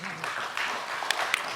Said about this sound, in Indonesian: Tepuk tangan untuk beliau nih.